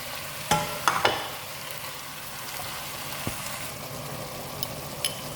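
Ground tomato stirred and frying in a pot for chicken bukhari rice, a soft steady sizzle with a few sharp clinks of the spoon against the pot near the start.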